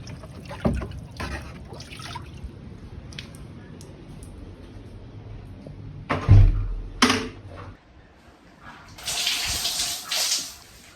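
Water from a stored supply poured over the body with small buckets in an old-style shower in southern Madagascar, a few splashy pours and trickles separated by quiet gaps, ending in a longer close splash.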